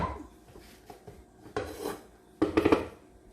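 Homemade Kool-Aid Jello is flipped out of its dish in a kitchen: a few close clattering knocks and scrapes of dishware, with two louder clunks toward the end.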